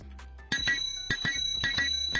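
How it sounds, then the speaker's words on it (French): The bell of a Turboant X7 Pro electric scooter rings repeatedly, several quick bright metallic ding strikes in an uneven rhythm, close and loud with ringing overtones. "on a la sonnette, écoutez, c'est puissante, c'est fort"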